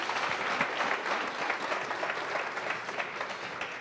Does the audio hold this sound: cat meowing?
no